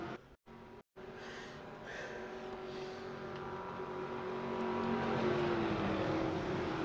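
Stock cars in a sim racing game roaring through the turns at Darlington, a continuous engine drone that swells gradually louder after a couple of brief dropouts at the start.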